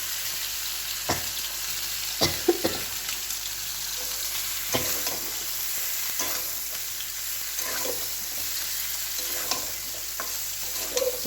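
Soybean chunks and potato frying in a cooked spice masala, a steady close sizzle with intermittent scrapes and taps of a spoon stirring the pan, and no talking.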